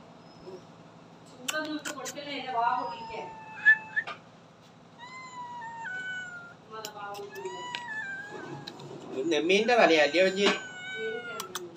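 A cat meows repeatedly in short, plaintive cries, close by, while people talk in the background.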